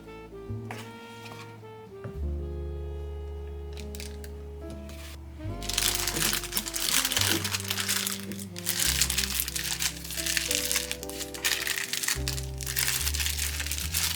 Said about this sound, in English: I'm just going to put my icing in a Ziploc bag.